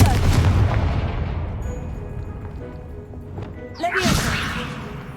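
A Confringo blasting spell explosion in Hogwarts Legacy, with a heavy rumbling boom that slowly decays, then a sharp crackling whoosh and burst near the end.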